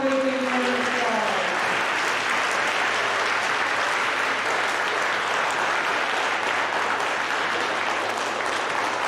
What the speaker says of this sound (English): Please give them all a great round of applause.